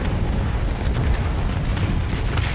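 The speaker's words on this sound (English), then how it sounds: "Yavin, you'll get damaged with the explosion" A large ship exploding in the Starsector space combat game, heard as a continuous loud rumbling roar with broad noisy texture, steady for a few seconds and alone without talk.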